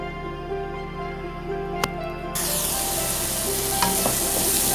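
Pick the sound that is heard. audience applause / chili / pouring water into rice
chili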